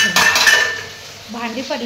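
A few clattering clinks of dishes from a meal being cleared up close, followed by a quieter stretch and a faint murmur of a voice.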